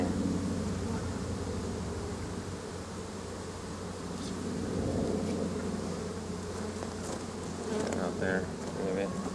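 Honeybees swarm around an opened hive during an inspection, a dense continuous buzzing close by with individual bees droning past, and faint human sounds in the background.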